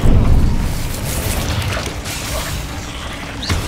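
A fiery Incendio spell bursts in Hogwarts Legacy with a loud whooshing blast at the start that settles into a sustained roaring crackle, with a sharp pop near the end.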